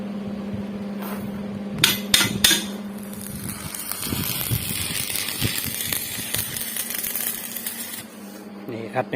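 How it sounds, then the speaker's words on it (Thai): A front axle beam for a walking tractor being converted to a ride-on is arc welded, giving a steady sizzling crackle after a few sharp metallic taps, with a constant low hum underneath and some voices nearby. "ดูฝีมือการเชื่อมของช่างไฟ"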